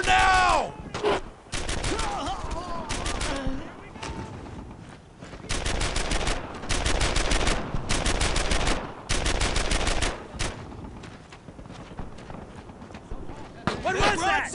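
Sustained bursts of rapid automatic gunfire in the WWII shooter game Brothers in Arms: Earned in Blood, rattling in long dense volleys with short gaps, mixed with shouted voices and battle noise throughout.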